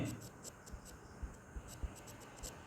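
Pen scratches on paper while a math equation is written out, faint short strokes and taps over a low hum, close and quiet with no talk during the clip.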